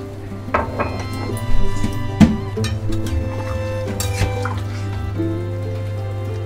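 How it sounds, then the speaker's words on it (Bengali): Water is added to a pot of potatoes cooking for Bengali shukto, with drips and splashes of liquid, scattered kitchen clatter and a steady background hum. No one speaks. "আর এই যে এই জলটা রেখেছিলাম, যেহেতু আলুটা আরেকটু সেদ্ধ হবে এই জন্য আমি এই জলটাও অ্যাড করে দিলাম।"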